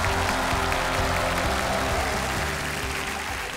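A studio audience on a television quiz show applauds in a sustained, even wash of clapping that holds steady and slowly tapers, with no voices over it.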